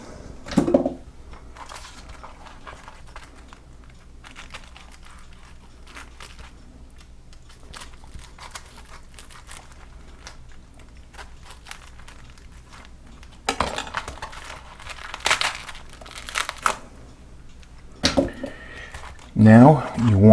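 A knife cuts a V around the core of a cabbage, with crunchy cutting and knocks on a board near the end, following a long stretch of quiet kitchen sound.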